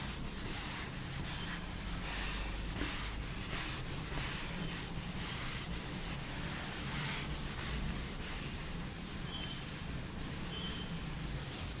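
Continuous brisk rubbing as a board is wiped clean, with rapid repeated scrubbing strokes at an even, steady level and no voices.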